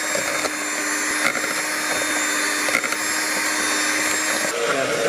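An electric mixer whirs steadily through marble cake batter, a continuous buzzing drone with small fluctuations, close and fairly loud.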